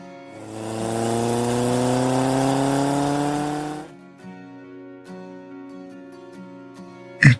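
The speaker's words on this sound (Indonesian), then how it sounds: "Motornya... Motor Zain. Kok mereka boncengan?" A motorcycle engine in the Sakura School Simulator video game revs up steadily for about four seconds, the pitch climbing, and then drops to a lower idle with softer pulses, ending on a brief sharp knock.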